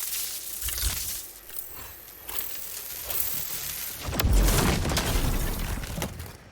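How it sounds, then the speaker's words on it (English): A fiery Immolation explosion bursts in the Nightingale game, a sharp crackling blast with a deep low thump followed by a shattering, rumbling tail, loud and close with no talk. "So it creates an explosion"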